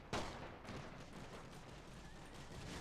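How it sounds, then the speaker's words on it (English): Machine gun fire rattles through a WWI battle in The Great War: Total War, a dense, continuous burst of gunfire that starts sharply and holds at a steady level for about three seconds, with no voices. "the machine gun is now firing at the cavalry"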